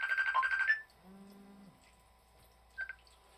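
A phone rings with an incoming Messenger call, a bright repeating electronic tone that sounds loud for under a second, then gives way to a faint low hum, with a brief chirp near the end.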